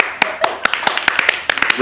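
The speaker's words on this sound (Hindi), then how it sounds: "तालियां।" A short burst of hand clapping, a few people applauding in uneven taps at close range, as an on-stage comedic sketch pauses for applause.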